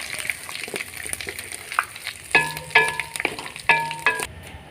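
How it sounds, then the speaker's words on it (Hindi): Garlic fries in hot oil for a daal chana, giving a steady soft sizzle with a few louder ringing clinks of a utensil against the pan partway through. "लहसुन को आपने गोल्डन ब्राउन करना है।"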